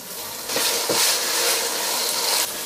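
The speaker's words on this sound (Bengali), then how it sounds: "আদা রসুন বাটাটাকে একটু ভেজে নিলাম।" Ginger and garlic paste fries in a hot pan for a beef curry, setting off a loud, steady sizzle that swells up after a brief moment and keeps crackling close by.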